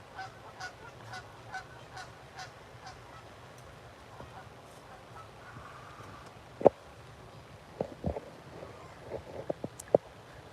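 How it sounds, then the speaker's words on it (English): Geese honking in a scattered series of calls, mostly faint and distant, with a few sharper, louder honks near the end. "no way that geese made that noise"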